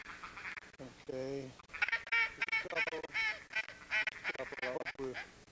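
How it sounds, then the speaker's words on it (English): Ducks call close by during a duck hunt, a run of repeated nasal quacks and honks at a steady rhythm, with brief talk from men mixed in. "the ducks are working around"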